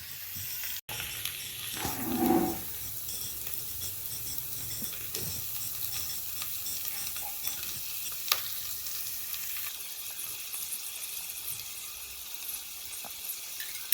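Onion and a whole tomato frying in a pan for paneer bhurji, a soft continuous sizzle with occasional stirring scrapes and clicks of a spatula heard close by throughout.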